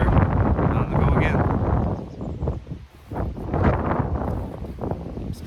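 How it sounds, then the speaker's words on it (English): Strong wind buffets the microphone outdoors during a canoe trip on Central Newfoundland's Indian Brook, loud gusty roaring rising and falling with muffled voices faintly underneath. "Still windy."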